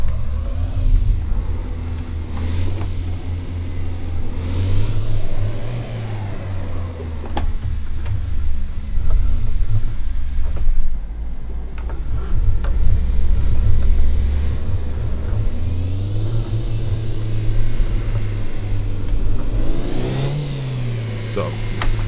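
A drift car's engine in City Car Driving revs up and down repeatedly, its pitch rising and falling through long swells over a steady low drone, with a voice talking over parts of it.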